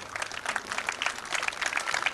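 Crowd applauding the winning cyclist at a 1989 Limburg club championship road race in Gulpen, a steady, fairly distant patter of clapping hands with no clear breaks.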